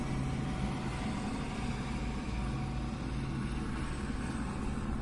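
Constant droning rotor and engine noise of a police helicopter overhead during a police chase, steady and fairly distant with no distinct bursts, without talk.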